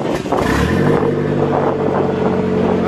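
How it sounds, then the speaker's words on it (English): An engine on a Speeduino fuel-injection setup with an idle air control valve cranks and fires, then holds a loud, steady, close idle, with no speech. "I'm gonna try to start again and see if my idle goes higher a little."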